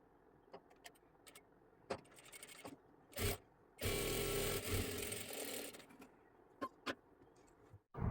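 A sewing machine runs stitching a folded strip of blouse fabric, with a short burst near the middle and a longer sustained run of a few seconds, set among quiet handling clicks and taps, no voices.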